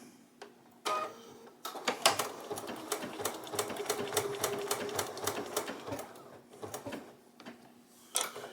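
Domestic sewing machine stitching decorative stitches along a chicken appliqué, running in uneven bursts of rapid mechanical ticking, close and moderately loud, with short pauses between runs.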